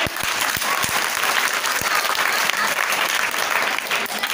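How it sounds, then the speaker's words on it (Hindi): Loud, dense applause from an audience at a science talk fills the whole stretch as a continuous wash of many hands clapping at once. "एक बार अच्छे से तालियां बजा लें।"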